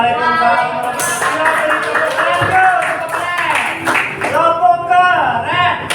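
A group doing a 'tepuk keren' clap chant at an Indonesian training session: quick rhythmic hand claps mixed with chanting voices, close and lively.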